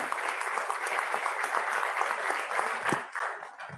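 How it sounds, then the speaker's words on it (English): A hall audience applauds at a Swarnim Vijay Varsh celebration, continuous thick clapping that holds steady and begins to thin out near the end. "A huge round of applause,"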